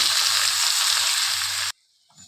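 Country chicken curry fries in a pan with a steady, loud close sizzle that stops abruptly near the end, followed by quiet.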